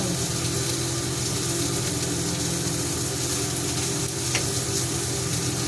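Whole garam masala spices sizzling in hot oil, a loud, steady, dense frying hiss that continues without a break throughout.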